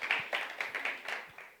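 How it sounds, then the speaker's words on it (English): Applause from a conference audience at a government technology event welcoming a presenter, a brief patter of claps at moderate volume. "let's give a round of applause for Dino as he just tees up his presentation"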